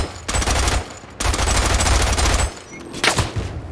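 Rapid automatic gunfire from a gun in the World War I shooter game Isonzo, loud sustained bursts separated by short pauses, with a final shorter burst near the end.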